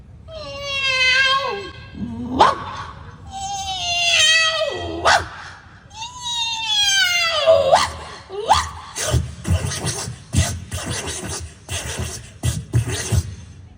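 A voice on stage in a school arts festival play imitates a cat and dog fight: three long wavering yowls, then a rapid burst of snarling, yapping barks and scuffling noises.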